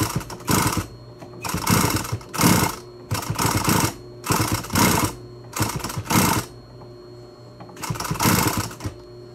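A sewing machine stitches a seam across a fabric face mask in six or so bursts of rapid mechanical whirring, each a second or less long, separated by short pauses, close and alone with no talk.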